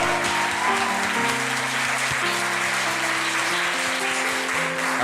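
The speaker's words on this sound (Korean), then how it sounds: "다시 한번 하나님께 영광 박수 올립니다" A church congregation at a Korean Wednesday worship service applauds in steady, dense clapping that continues evenly throughout, with sustained organ or keyboard chords underneath.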